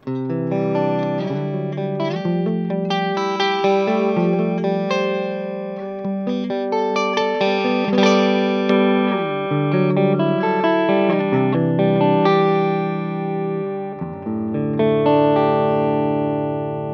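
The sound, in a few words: electric guitar through tube amp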